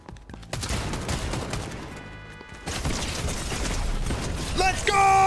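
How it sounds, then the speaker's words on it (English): Shotgun blasts and rapid gunfire in the battle royale game Fortnite, loud, dense bursts of shots with clattering mechanical sounds, then an electronic chime at the end. "this shotgun is still the best one"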